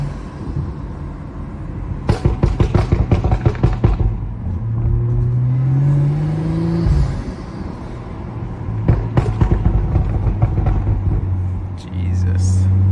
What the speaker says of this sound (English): The intake, the pops. Perfect combination there.